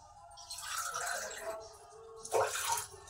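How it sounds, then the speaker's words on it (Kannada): Two glasses of water poured into a cooking pot at home, a soft continuous splashing rush with a brief louder surge near the end. "ಈ ಥರ 2 ಗ್ಲಾಸ್ ನೀರು ಹಾಕೊತೀನಿ."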